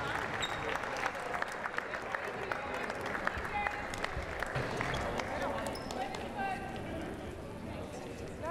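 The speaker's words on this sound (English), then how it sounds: "please, one last round of applause for these three terrific student athletes." Crowd applause at a Moorpark College Raiders versus Oxnard College Condors basketball game, a steady spread-out clapping from the stands lasting throughout, with scattered sharp claps and background murmur.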